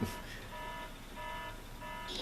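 A repeating electronic alarm siren from the Batman: Arkham Asylum video game, a steady bright tone cycling on and off in pulses beneath a busy game soundscape, moderately quiet throughout.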